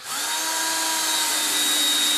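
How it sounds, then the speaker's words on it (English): Power drill driving into wood while mounting a camera bracket in a metal horse barn, one steady high-pitched whine held for about two seconds, loud and close with no talk. "We'll just grab our handy dandy drill and mount it up there."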